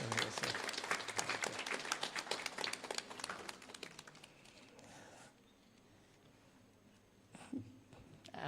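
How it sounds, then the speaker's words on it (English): Audience at a debate competition clapping for a judge, a burst of applause that fades out after about four seconds into quiet room tone with faint shuffling. "Please give a big round of applause."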